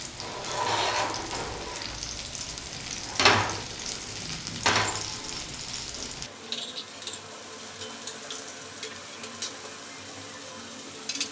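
Chicken fingers deep fry in oil, a continuous crackling sizzle with a few louder pops and stirring clatters, the sound thinning partway through.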